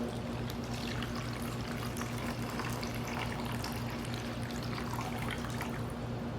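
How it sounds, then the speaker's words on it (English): Water is poured into a plastic bag in a steady, continuous stream that runs unbroken for several seconds. The gurgling, splashing sound is close and fairly quiet, with no talking. "the next step is to add the water to the bag"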